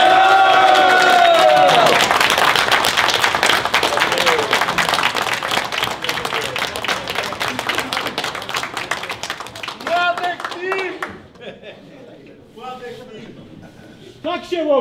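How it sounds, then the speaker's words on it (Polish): Applause and clapping from a crowd at an international angling competition prize-giving honour the junior anglers. The clapping is dense and sustained for about ten seconds, then thins out while someone speaks over the tail end. "Wielkie brawa dla juniorów."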